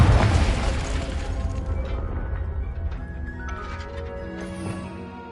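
A Confringo spell explosion goes off in the video game Hogwarts Legacy inside a greenhouse, a loud opening boom that decays into a rumbling, crackling tail, followed by a few faint magical chimes as it fades.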